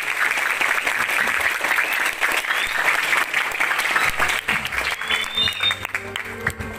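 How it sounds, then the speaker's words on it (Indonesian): An audience applauds a performance at an Islamic school event, a sustained crackle of many hands that gradually thins, while a few voices and faint music tones start to rise toward the end. "Tepuk tangan untuk Al-Hikmah."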